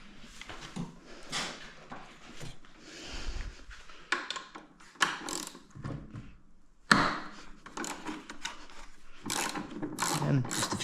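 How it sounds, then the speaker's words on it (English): A ratchet with a 15 mm socket loosens a bolt on a budget sled's belt drive, giving bursts of quick clicking and metallic clatter, close and fairly quiet, broken by short pauses and handling knocks. "And just a 15 mil on the ratchet."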